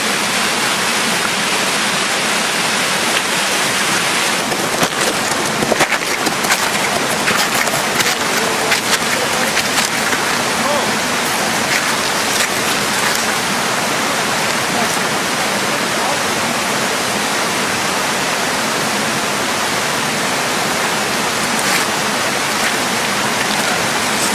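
A stream swollen by overnight rain and snowmelt on a trail rushes loudly and steadily, a dense continuous wash of water close by.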